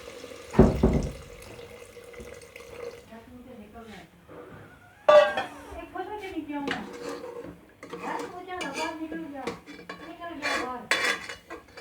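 Water is poured into a cooking pot holding chicken kofta and chicken stock, with metal pots and utensils clattering in a home kitchen. A sharp clank opens the clip, and a person talks over most of it.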